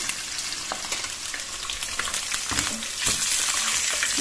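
Fish sizzles in hot oil, half-fried for a potato and cumin fish curry, with a steady, close crackle and hiss that swells slightly toward the end.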